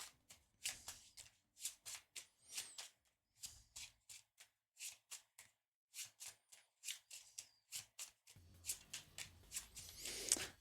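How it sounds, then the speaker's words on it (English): A deck of linen-finish playing cards is shuffled again and again for a solo board game, giving close, crisp riffling bursts in a steady rhythm with short pauses between them. "So we'll shuffle them up."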